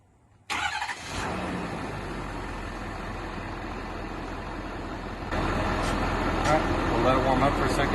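Ford 6.7 PowerStroke diesel truck, first generation, cranking and firing up close by, settling into a steady rumbling idle that grows louder and rougher after a few seconds.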